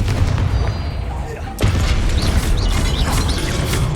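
Confringo spell blast in Hogwarts Legacy striking statues, a sudden loud explosive crash about midway, followed by rumbling debris under ongoing game sound and a voice.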